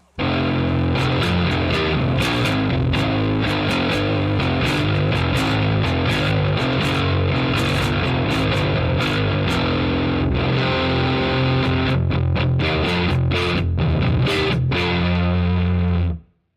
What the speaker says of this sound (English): Gonna get some distortion happening now.